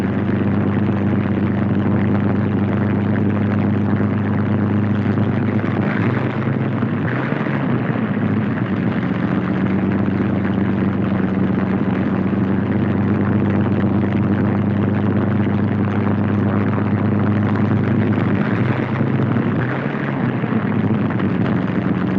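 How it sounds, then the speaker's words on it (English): A P-47 Thunderbolt fighter plane taxis on a wartime airfield, its radial engine a loud, steady rumbling drone that continues without a break throughout, with slight swells in pitch. "Plane taxis to its own hard standing, widely dispersed around the field."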